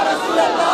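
Religious slogans chanted by a crowd at a gathering, a loud sustained roar of many voices calling out together.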